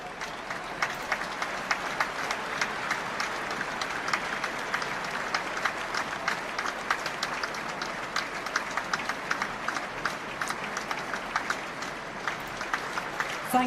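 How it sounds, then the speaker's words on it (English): Steady applause from a large stadium crowd at Murrayfield before a Scotland versus England rugby match, a continuous wash of many hands clapping heard from a distance, with no speech. "Please show your appreciation by a moment's applause."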